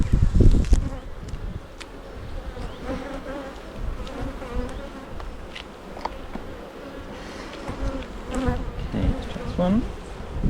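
Honeybees swarming around an open backyard hive during an inspection, a steady, dense buzz with individual bees flying close past, occasional handling clicks and knocks, no talking.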